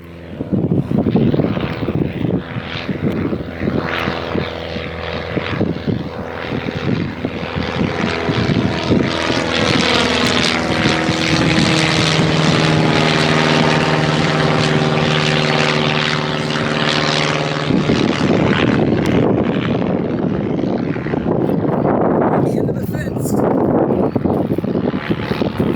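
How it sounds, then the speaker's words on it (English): A propeller airplane revs, takes off and passes right overhead on Cape Cod, its loud engine drone swelling, shifting in pitch as it nears, then easing as it climbs away. "Oh, the plane's coming."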